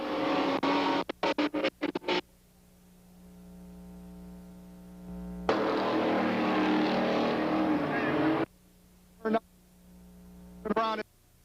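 Super stock race cars at Freedom in 1993 roar past during a qualifying event: engines drone steadily, with loud bursts as cars sweep close, then fade to a hum. A commentator talks over the engines.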